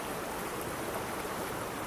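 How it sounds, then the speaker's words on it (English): Steady broadband rush of a flowing river stream, continuous and fairly close, with no voices or other sounds over the even watery hiss. "Welcome to the Cambian River."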